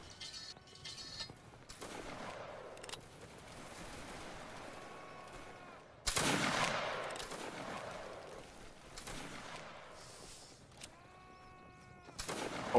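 Musket gunfire in a Waterloo battle video game comes as scattered volleys and single sharp shots, some near and some distant, with an especially loud crack midway and another at the end, over low battlefield ambience.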